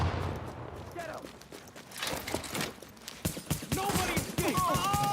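Rapid bursts of gunfire in The Division video game crack and pop in quick, uneven volleys, growing denser toward the end, while someone talks over the shooting.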